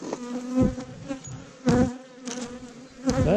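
Honey bees buzz around an opened hive during a beekeeping inspection, a close, wavering drone with several sharper bursts as individual bees pass near.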